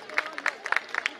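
Scattered hand clapping from an audience at the D.A.V. Sr. Sec. School Hoshiarpur annual prize distribution, light and uneven, with a handful of distinct claps spaced across a brief moment.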